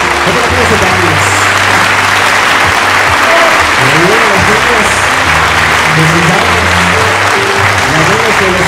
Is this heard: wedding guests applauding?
yes